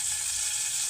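Garlic sizzling in hot oil in a pan for a chutney, a loud steady hiss of frying that fills the short moment without pause.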